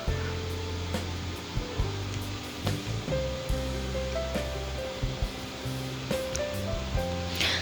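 Chana dal halwa roasting in a pan: a steady, close sizzling hiss runs throughout with soft intermittent scraping and stirring knocks and a low hum underneath.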